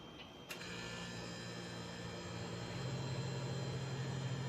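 A freeze dryer cooling down gives a steady mechanical hum with a constant whir, a low drone that strengthens slightly partway through, with no talking.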